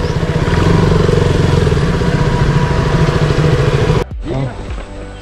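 A motorbike engine runs loud and close with a steady throbbing idle for about four seconds, then cuts off abruptly as it is parked under a tree, leaving quieter outdoor sound and a brief voice.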